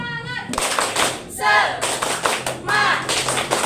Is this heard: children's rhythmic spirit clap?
yes